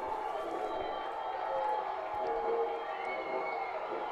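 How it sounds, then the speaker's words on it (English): A Panthers home crowd at a high school football playoff game, cheering in a sustained, fairly distant roar that swells slightly, with a commentator talking over it. "As the Panthers crowd comes to life here late."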